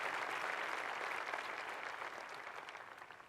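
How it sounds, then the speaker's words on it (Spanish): Church congregation clapping together for the Lord during a sermon, a dense, steady wash of applause that fades slightly toward the end, with no voices over it. "Dale fuerte ese aplauso al Señor"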